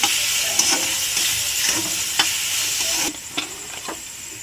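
Turmeric, coriander powder, red chilli and tomato paste frying for ghugni, a steady close sizzle broken by several sharp scrapes of stirring; the sizzle drops quieter near the end.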